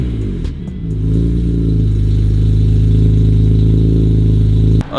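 A BMW F80 M3 engine fitted with headers and a tune idles and holds a loud, steady, deep drone close by, rising briefly at the start and cutting off abruptly near the end.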